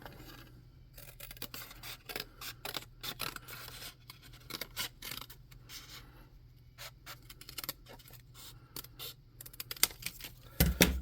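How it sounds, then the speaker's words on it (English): Scissors cut through craft material for a tabletop-game Remorhaz model, a series of close, irregular snips and scraping rustles. "And we could do that with scissors"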